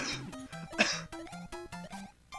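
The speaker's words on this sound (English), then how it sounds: "Editor, just do a cough right there." A single short cough dropped in as an editing effect, sitting over steady bouncy chiptune-style tones.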